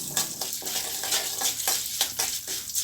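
Urad dal roasting in hot oil in a pan for capsicum kara chutney, a steady close sizzle broken by regular scraping stirs about every half second.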